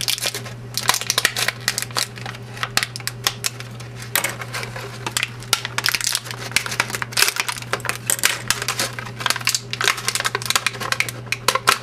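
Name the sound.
popping Ranger Key figures out of plastic packaging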